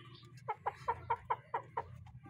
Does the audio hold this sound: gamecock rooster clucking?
yes